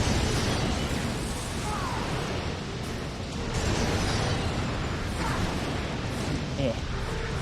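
Rocket explosions from the video game Ratchet & Clank Future: A Crack in Time, a dense rumbling roar of blasts that fills the whole stretch, with a voice talking over it.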